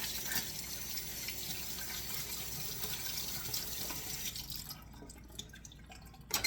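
Blueberries are rinsed under a running kitchen tap, water splashing and dripping steadily into the sink, then thinning out toward the end with a few louder splashes.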